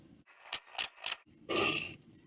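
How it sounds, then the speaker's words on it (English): Knife slicing raw chicken breast against the grain into strips for jerky, several short crisp cutting strokes followed by a longer scraping slice, close and fairly quiet. "It matters to cut it against the grain to make it easier to eat once it's cooked."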